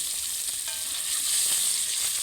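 Boal fish dropped into hot oil, giving a loud, dense, continuous sizzle and crackle that stays close and steady throughout the short moment, with no voices.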